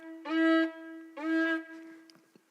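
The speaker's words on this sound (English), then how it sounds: "The next sound is called shivarim." A shofar sounds the shivarim call in a synagogue setting for Rosh HaShanah. Two separate reedy, horn-like blasts ring clearly, each bending in pitch at its start, followed by a few faint clicks.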